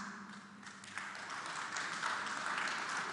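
An audience at a World Congress on IT speech claps, starting softly and swelling into a fuller, sustained round of applause.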